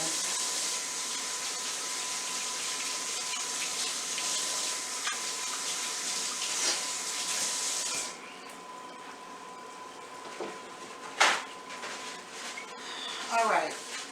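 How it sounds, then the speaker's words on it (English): Tap water runs steadily as hands are washed at a kitchen sink, a loud broadband rush that cuts off abruptly, followed by quieter clinks and handling sounds while a person talks. "Wash my hands."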